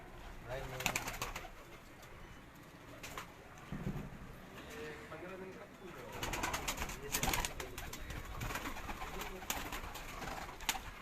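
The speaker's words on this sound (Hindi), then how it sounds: "ये शौकत भाई के अफरीदी कबूतर हैं माशाल्लाह" Afridi pigeons coo softly and repeatedly amid some wing flutters and light background noise on a Karachi rooftop, with a few scattered sounds from nearby.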